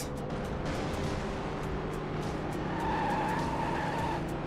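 A race car engine roars steadily in the Hot Wheels World Race video game, a loud continuous drone with tire skid noise and a rising whine near the end, no talking.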